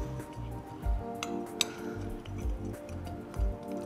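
Sesame seeds, asafoetida and salt get stirred into a rice-flour snack dough in a bowl for hurugadle nippattu, giving a run of sharp clinks and soft dull knocks at an uneven, steady pace.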